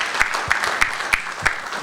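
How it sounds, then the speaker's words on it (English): Scattered applause from a gala audience at a Pakistan Chamber of Commerce USA annual dinner, a thin spread of hand claps with a few sharper claps standing out at a steady, moderate level. "Give a big round of applause"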